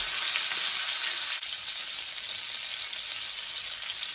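Pork frying in a pan, with a bright, dense, continuous sizzle heard up close and one small dip partway through.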